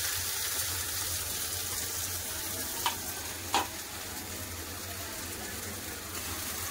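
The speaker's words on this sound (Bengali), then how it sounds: "ভালো করে লাল করে ভেজে তুলে নেব।" Steady, even sizzling of onions frying in hot oil, with a couple of faint clinks from stirring; no talking.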